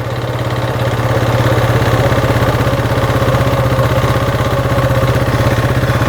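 A Honda ATV with a shifting fault idles loudly and close by. The engine runs in a steady, rapid chugging rhythm with a low throb and some mechanical clatter, and no voices are heard.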